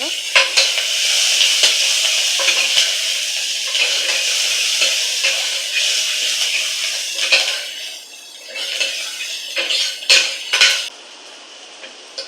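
Curry leaves sizzle and crackle loudly in hot oil in a pan while spinach kadayal is cooked, with a spoon clinking and stirring throughout and the frying easing near the end.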